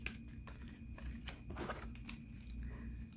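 Tarot cards are shuffled somewhat unevenly by hand, producing soft crisp riffles and papery slides in irregular bursts, faint and close.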